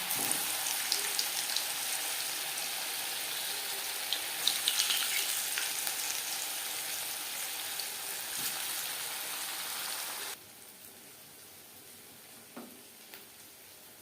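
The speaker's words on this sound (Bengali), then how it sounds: "তেল গরম করে নেওয়ার পর পুলিগুলো ভাজবো মিডিয়াম ফ্লেমে" Moong dal puli fry in hot oil on a medium flame, a faint, even crackle with occasional pops that drops suddenly to a much quieter hiss near the end.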